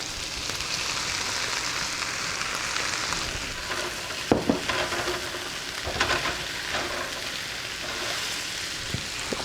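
Potatoes, onion and peppers frying in a pan give a steady broadband sizzle, with a few louder scraping stirs near the middle and no talking.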